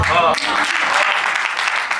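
Audience applause at a live comedy talk with a comedian, with a dense burst of clapping that starts abruptly after a short spoken phrase and continues steadily and fairly loud to the end.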